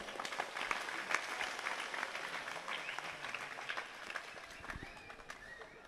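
Applause from a large audience at an Islamic religious gathering (pengajian) with Sufi dancers, sustained dense clapping throughout, with some voices mixed in.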